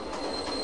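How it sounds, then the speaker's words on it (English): A train rolls past in the video game Goat Simulator, a steady close rumble of railcars with a high wheel squeal running throughout, with no voices over it. "You're on the train, Jack."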